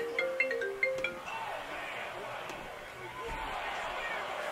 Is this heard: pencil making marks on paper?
no